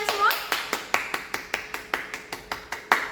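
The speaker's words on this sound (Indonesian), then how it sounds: "Tepuk tangan untuk kalian semua." Class applauding in an online teacher-training lesson, heard as a regular series of about a dozen crisp, evenly spaced claps, close and distinct, with faint voice traces between them.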